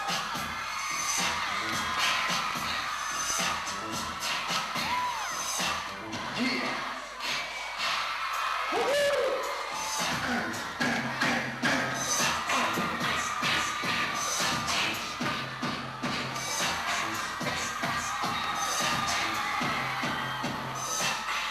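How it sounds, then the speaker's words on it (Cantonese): Fans at a concert scream without a break, a dense wall of shrill crowd noise that holds steady and loud the whole way through. "聽下啲歌迷用不絕於耳嘅尖叫聲"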